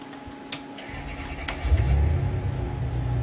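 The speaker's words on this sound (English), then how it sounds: "Let's turn the car on." A car engine in a real-time rendered driving simulation, with no one inside, cranks into life partway through and settles into a low, steady running rumble that builds in loudness.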